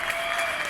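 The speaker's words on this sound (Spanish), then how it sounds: "toda la gente aplaudiendo por todos vosotros" Crowd applause for healthcare workers in Valencia, a dense continuous clapping from many people, steady and fairly loud throughout the short moment.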